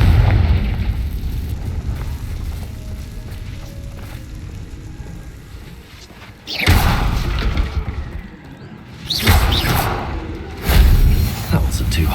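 Confringo fire spell exploding in the Hogwarts Legacy video game; several heavy booming blasts arrive in separate bursts over steady game rumble, loud and close, with a voice speaking between them.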